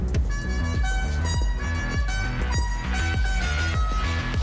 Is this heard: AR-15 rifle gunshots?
no